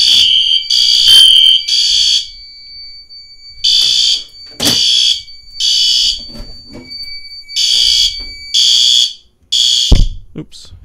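Fire alarm system sounding during a panel test, with loud, repeated pulsed horn blasts in an uneven rhythm, close by and alone apart from a couple of sharp handling knocks.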